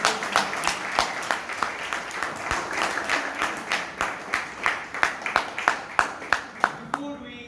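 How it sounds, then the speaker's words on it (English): Audience applause at a Toastmasters meeting in Bangalore: a room of people claps steadily, with sharp individual claps standing out, strongest toward the end. "So big round of applause once again to Toastmaster Vivek."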